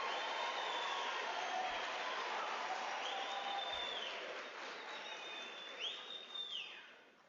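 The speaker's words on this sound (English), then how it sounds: "let us give the graduates a thunderous round of applause" Graduates at a University of South Africa autumn graduation ceremony receive sustained crowd applause that fills a large hall, steady and fairly loud, with some high whistles or ululation-like tones rising over it before the sound tapers off.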